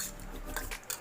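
A metal spoon clinks and scrapes against a dish while stirring black pepper powder into a sweet mixture, a few close, light taps and scrapes over about a second with no talking.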